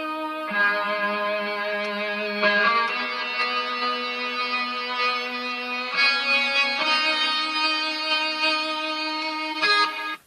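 Distorted electric guitar sustaining long bright chords, changing every few seconds, steady and prominent with no voices.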